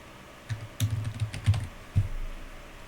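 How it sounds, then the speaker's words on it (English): Computer keyboard keys being typed in short bursts of clicks, a search entered in software on a desktop, close and fairly clear with no talking. "I'm going to type it into the search bar here."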